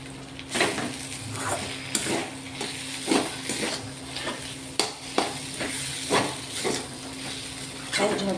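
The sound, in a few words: stirring and frying poha with ghee in pan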